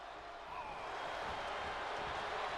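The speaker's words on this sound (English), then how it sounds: "And the crowd are roaring." A large arena crowd roars steadily at a WWE 2K22 wrestling video game event, a loud, dense wall of cheering that fills the whole stretch without a break.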